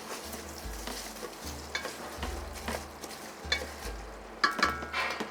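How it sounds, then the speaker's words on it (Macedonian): Onions stirred in a hot pan on a stovetop, with a spoon scraping and knocking against the pan in irregular strokes over a soft continuous sizzle, close and fairly quiet. "Сега почнувам да мешам."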